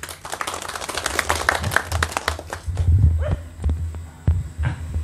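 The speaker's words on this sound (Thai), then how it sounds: "เสียงปรบมือต้อนรับอาจารย์ใหญ่หน่อยครับ" Scattered, uneven clapping from an audience at a Thai car repair garage welcoming the head teacher, sharp irregular claps over a low throbbing hum, with a few voices murmuring in between.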